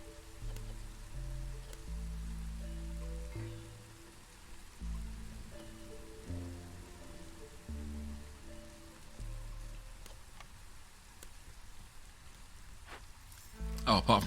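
Rain in the video game Against the Storm, a soft, steady patter and hiss that runs continuously beneath gentle game music, with a slightly louder rustle near the end.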